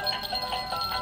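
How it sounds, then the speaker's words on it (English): Small jingle bells on little dogs circling around give a faint, quick, continuous metallic jingling, shimmering in short repeated bursts with no talk. "I like the jingle bells."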